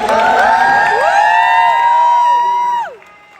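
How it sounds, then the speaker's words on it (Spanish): A convention crowd at a health symposium cheers and whoops loudly, voices rising and sliding in pitch for nearly three seconds before the noise drops away abruptly. "Un aplauso para todos los colombianos."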